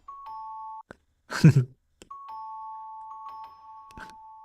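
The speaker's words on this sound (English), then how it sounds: "I add some like interesting doorbell in there" A steady electronic chime tone rings in two sustained stretches, interrupted by a brief muffled sound and a few clicks.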